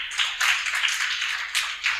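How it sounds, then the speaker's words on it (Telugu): Sunday school children at a program clap together, a close, dense burst of applause that swells and dips in waves over a couple of seconds, with no talking. "క్లాప్స్ కొట్టండి."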